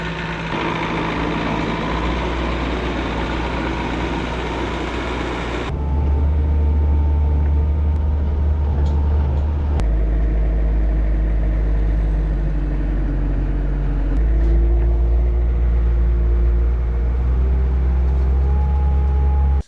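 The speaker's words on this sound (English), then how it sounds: "So let's go get the skidder, or as the comments said, bobcat." A Bobcat skid steer engine idles and runs steadily, a loud, close, low rumble that steps up in pitch and volume partway through as the engine revs higher, with no talking.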